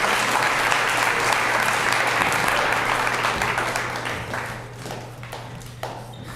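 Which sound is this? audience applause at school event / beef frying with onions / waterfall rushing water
audience applause at school event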